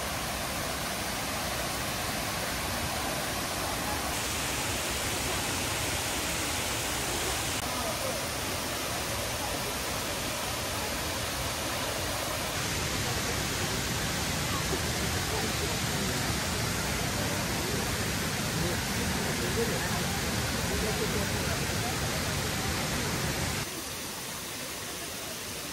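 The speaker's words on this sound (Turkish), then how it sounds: "Bu şelalenin suyu inanılmaz temiz. İçilebilecek kadar temiz, dağlardan geliyor." A mountain-fed waterfall roars as a steady, dense rush of falling water, constant and enveloping throughout with no pauses.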